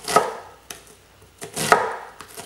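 A kitchen knife chops an onion on a cutting board in a handful of sharp, separate strikes, some close together, with quiet gaps between them and no voices.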